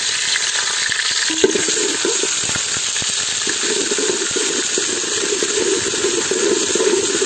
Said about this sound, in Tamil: சுத்தமான சூரியகாந்தி எண்ணெயை சேர்த்துக்கிறாங்க. பூண்டு பேஸ்ட் போட்டுக்கலாம்.